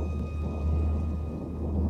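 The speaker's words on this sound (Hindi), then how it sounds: "गरज चमक के साथ ज़ोरदार बारिश हो रही थी।" Heavy rain in a thunderstorm at night, a steady low rumbling wash of downpour with faint swelling thunder and no voices.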